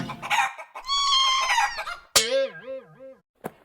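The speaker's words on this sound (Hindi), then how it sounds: "बिल्लू और गब्दू की मुर्गी।" A rooster crows loudly up close, its long wavering call followed by a short squawk, with clucking from chickens at the start.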